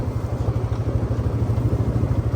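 A Polaris Sportsman ATV rolls downhill in neutral on a backyard trail, giving a steady low rumble with a fast pulsing chug that holds even and close for the whole stretch.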